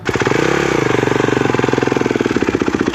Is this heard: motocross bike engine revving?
yes